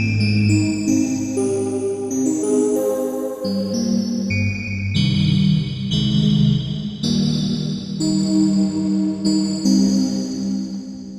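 A Percussa SSP multi-timbral patch blending FM bell tones with a sampled voice sound rings out in sustained, layered chords with shimmering bright partials and effects-laden chorus and echo, played continuously and fairly loud with no talking.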